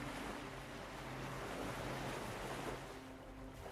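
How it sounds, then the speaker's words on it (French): Ocean waves roll in and draw back in a steady, continuous wash of surf, moderately loud and even, with no voices. "votre regard suit le mouvement des vagues qui vont et qui viennent"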